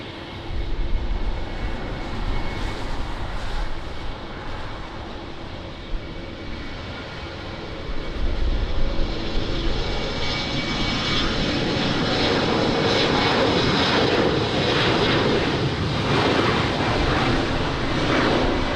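A jet airliner takes off from runway 20 at Lisbon Airport in rainy weather, its broad engine roar building from a steady rumble to a louder, sustained thrust noise heard at a distance.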